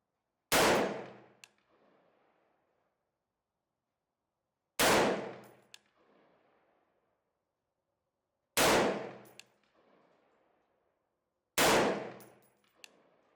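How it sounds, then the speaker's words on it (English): A rifle fitted with a Faxon Firearms pencil barrel fires four single loud shots spaced several seconds apart, each a sharp crack with a short decaying echo and a faint metallic clink, no talk. "let me just show you the footage of me shooting the first 5 rounds, doing the mag dump, and then the final 5 rounds"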